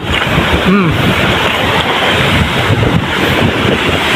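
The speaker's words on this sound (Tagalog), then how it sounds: "Kaya daghang mong bawod oh" Steady roar of surf and wind blasting a nearby microphone, with a brief voice near the start.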